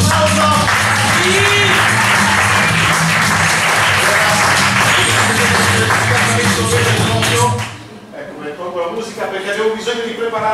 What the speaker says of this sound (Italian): bravo, un applauso!